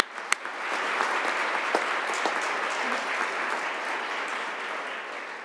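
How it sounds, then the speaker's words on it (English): Audience applause for the 2019 Division 8 state champion Reading varsity football team, a broad steady crowd clapping that starts after a sharp early clap and holds strong throughout without talk. "Let's give them a quick round of applause right now."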